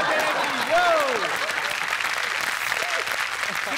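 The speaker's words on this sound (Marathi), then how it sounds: "सई तामणकर हिच्यासाठी जोरदार टाळ्या" A studio audience claps loudly and steadily throughout at a Marathi comedy show taping, a broad continuous wash of applause with brief bits of voice over it.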